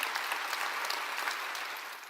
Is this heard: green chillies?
no